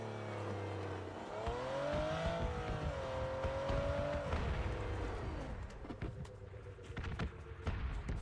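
Car engine in the battle royale game PUBG, revving up from a low idle into a rising, shifting whine as the vehicle drives and accelerates, steady and fairly close throughout with rough gravelly undertones.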